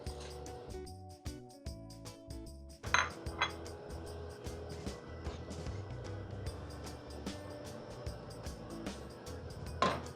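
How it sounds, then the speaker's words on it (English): Wild rice is stirred into a pot of water just coming to a boil, heard as a low steady hum followed by repeated metallic clinks and scrapes of a utensil against the pot, close and fairly quiet with no talk. "This one is just coming up to a boil now, so I'm going to stir our rice into it."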